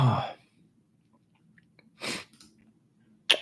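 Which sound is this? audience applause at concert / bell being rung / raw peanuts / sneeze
sneeze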